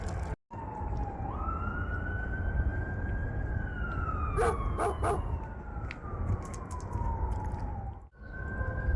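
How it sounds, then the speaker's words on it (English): Police sirens wail and rise and fall in the distance beyond a windy park, with rumbling wind noise underneath and a few sharp dog barks partway through. "Always sirens, always something going on."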